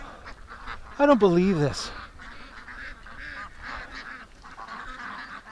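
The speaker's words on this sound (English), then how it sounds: "here it was a duck, a wild one, 2 of them to be exact" Two wild ducks at the mouth of a creek let out a loud, brief burst of honking quacks, followed by softer calls, with someone speaking nearby.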